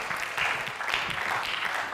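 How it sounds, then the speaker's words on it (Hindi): Audience at a Hindi comedy poetry gathering (hasya kavi sammelan) claps steadily for a couple of seconds, a dense, moderately loud patter of many hands with no voices on top. "एक बार तालियां बजा दें"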